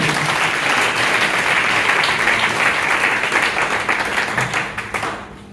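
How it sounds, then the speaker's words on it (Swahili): A church congregation breaks into sustained, dense applause at a Swahili worship service, loud and steady throughout before thinning out near the end. "Pigie Yesu makofi mengi."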